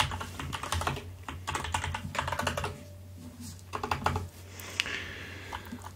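Rapid bursts of typing on a computer keyboard while logging into a system, clustered clicking keystrokes close to the mic with short pauses between runs.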